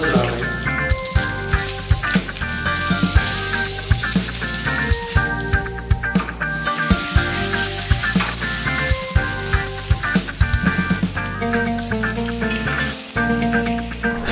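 Sliced eggplant, zucchini, tomato and bell pepper fry in olive oil, a dense continuous sizzle with crackling pops, while music plays loudly over it.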